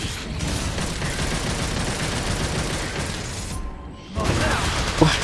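Rapid, sustained gunfire from the action game Devil May Cry 5 rattles on in a dense, continuous stream, breaks off for a brief moment, then resumes with heavy impacts.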